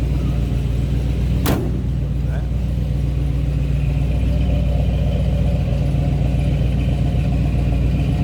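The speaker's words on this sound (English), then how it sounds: "Nice little rumble coming out of that 283." A deep, steady V8 engine rumble from a 1950 Chevrolet 3100 pickup with a 283 idles close by throughout, with a brief sharp clatter near the start.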